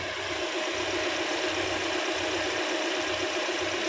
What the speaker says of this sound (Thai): เดี๋ยวเรามาฟังเสียงเครื่องกันดู